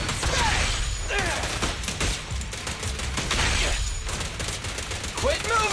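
Continuous gunfire in the Zenless Zone Zero game, a dense, steady rattle of shots with mechanical clatter throughout, mixed under a speaking voice.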